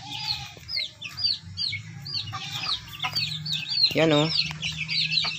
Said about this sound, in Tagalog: Yes, chicken!